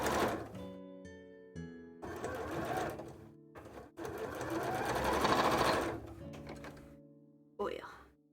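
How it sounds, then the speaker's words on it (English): Domestic sewing machine stitching an extra layer of seams on a small cosplay piece, running in several bursts of steady rapid mechanical whirring with short pauses between runs, close and fairly loud. "I will add that as just another layer of stitching"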